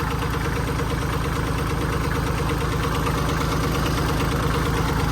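A Kubota B7200 tractor engine runs at a steady low idle in second gear, a loud, even, rhythmic diesel chugging with constant vibration and no talking.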